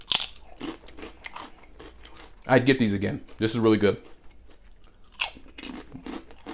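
Barbecue-flavored salmon skin chips are bitten and chewed close to the microphone, making a few bursts of crisp crunching between stretches of someone talking.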